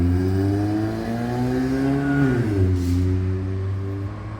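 Loud, steady rumble of a 2003 Mitsubishi Outlander four-cylinder through a 64mm sports exhaust, climbing in pitch as it revs and then dropping back, heard up close with no talk.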